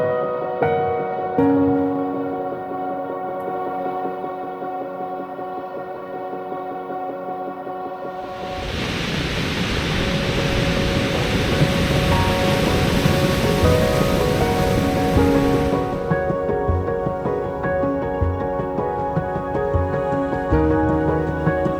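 Sea waves wash and recede over the rocks at Blackchurch Rock as the tide goes out, a broad rushing surge swelling midway and fading, set against steady background music.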